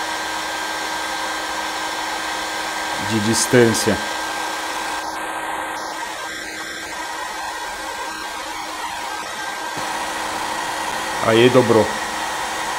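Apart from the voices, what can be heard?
hair dryer blowing hot air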